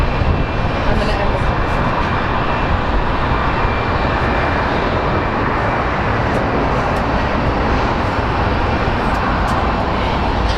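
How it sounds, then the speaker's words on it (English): An Airbus A319 jet airliner at Phoenix Sky Harbor airport gives a loud, continuous broadband engine roar that stays steady and close throughout. "These A319s are so goofy looking."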